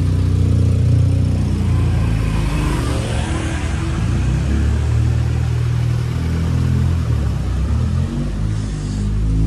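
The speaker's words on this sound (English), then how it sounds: "Now it's a traffic jam." Cars stuck in a traffic jam in Fishermen's Village on Koh Samui, with a steady, close, loud rumble of idling engines that swells slightly at times and has no talk over it.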